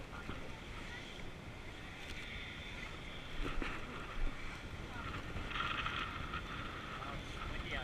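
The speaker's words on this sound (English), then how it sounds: "Oh, it's windy out here." Wind buffets a small fishing boat out at sea, a low rumbling rush with slight swells and some water wash, faint overall, with a voice briefly murmuring underneath.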